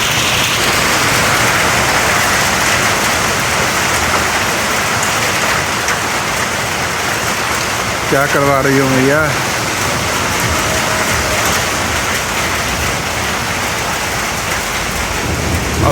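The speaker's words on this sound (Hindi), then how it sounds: "हल्की हल्की बारिश भी शुरू हो गई है।" Steady rain falling during a mountain storm in Kashmir, a constant hiss throughout, with a brief rumble of thunder midway and a short spoken remark.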